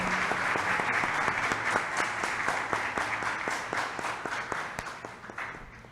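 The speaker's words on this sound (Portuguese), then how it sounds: "uma salva de palmas para ela." Steady applause from an audience at a temple lecture for a spiritual leader, a dense wash of many hands clapping that holds for several seconds and thins slightly toward the end.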